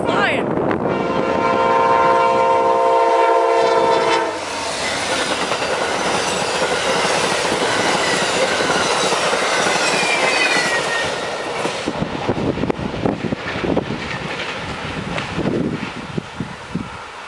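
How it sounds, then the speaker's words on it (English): Steam locomotive 765 passes close by with a loud whistle blast, then heavy rumbling cars and clattering, squealing wheels as the train rolls past, while onlookers talk and shout in the background. "there's a steam engine coming through"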